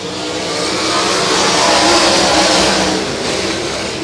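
Sprint cars roar together on a dirt track at the Benton County Bull Ring during a six-car, six-lap dash in Vinton, Iowa, a loud, continuous engine howl sustained from start to finish.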